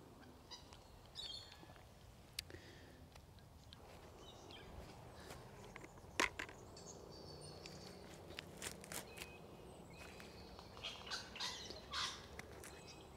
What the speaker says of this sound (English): I don't know if you can hear all of the little small birds, but they are very happy.